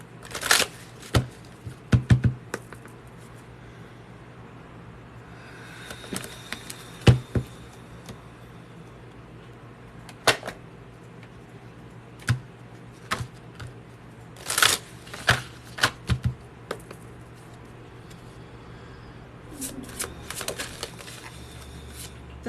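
Soft, irregular flutters and snaps of cards being shuffled, in short bursts with pauses, fairly close against a quiet hum.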